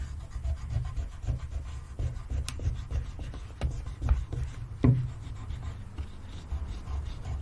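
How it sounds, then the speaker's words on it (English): Back of a spoon burnishing inked tape during an art session, a steady soft rubbing and scraping that runs continuously at close range with a few sharper scratchy strokes, no voices. "The more you burnish it, and honestly the back of a spoon is the best thing to use, the more the ink's going to come out onto the tape."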